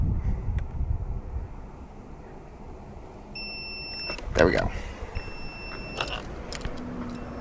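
Thin electronic beeps chirp in two short bursts while a car battery is reverse charged from a larger battery, with rustling, wind noise on the microphone and a brief spoken phrase.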